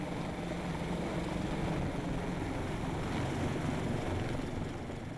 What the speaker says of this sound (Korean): 구조대원과 구조대상이 탑승하는 동안 헬기는 제자리 비행을 계속한다